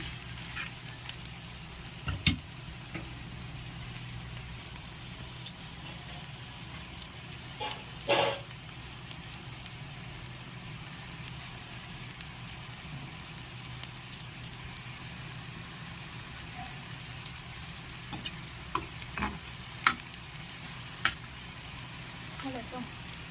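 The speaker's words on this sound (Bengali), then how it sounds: "আমি লাল লাল করে ভেজে নেব।" Bengali poppy seed fritters, posto bora, fry in hot oil with a constant sizzle and hiss, broken by occasional sharp pops and clinks of utensils.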